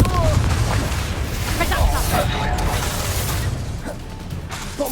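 Rapid fiery spell blasts from Confringo in Hogwarts Legacy, cracking and booming amid a dense, continuous flurry of battle noise and other spell impacts, loud and close, with a voice shouting incantations over the din.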